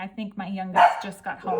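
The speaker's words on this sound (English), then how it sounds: "My doggies are barking." Pet dogs bark at home in a few short bursts, mixed in with someone talking over them at close range.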